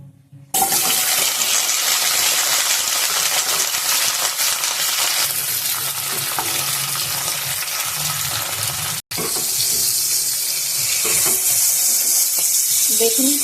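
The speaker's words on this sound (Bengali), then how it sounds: "তেলটা গরম হয়ে গেছে, শিম কটা ভেজে নেব।" Broad beans fry in hot oil in a wok, producing a loud, continuous close-up hiss and sizzle that drops out for a moment and then resumes at full strength.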